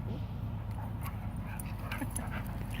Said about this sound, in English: Oh, these puppies, they're so cute.